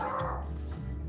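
An excited pet dog gives a couple of quick barks over steady room hum, moderately loud and close.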